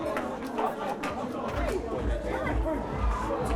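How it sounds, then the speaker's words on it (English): Young intoxicated crowd in a car park at night: dense, continuous chatter and babble of many voices, near and steady, with low rumbling underneath. "a young intoxicated crowd is taking over the car park"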